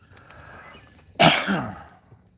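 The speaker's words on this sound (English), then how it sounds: "Can't shake that cough, though." A single sharp, close cough from a person with a lingering cough, loud and brief with a throaty tail, after a quiet moment; no talking.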